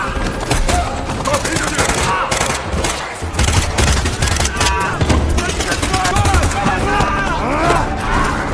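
Bursts of gunfire crackle almost without pause under loud, busy action noise, with a voice speaking through part of it.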